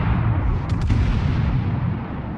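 Main guns of the Myogi, a tier 4 Japanese battleship in World of Warships, boom in a loud, continuous low rumble with a couple of sharper blasts early on, and no voices over it.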